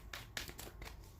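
Tarot cards shuffled by hand, several soft papery riffles and slaps in quick bursts, close and fairly quiet, with no talking.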